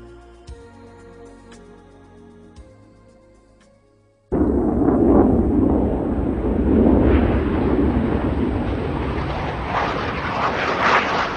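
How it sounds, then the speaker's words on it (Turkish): Airplanes flying, a sudden loud roaring engine rush that cuts in after a quiet musical passage and holds steady and close, rising slightly in brightness as it continues. "Uçaklar."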